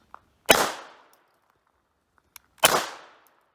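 Two sharp pistol shots from a Hi-Point CF380 firing Silver Bear 380 ACP at a range, spaced about two seconds apart, each a loud crack with a short decaying tail and near silence between.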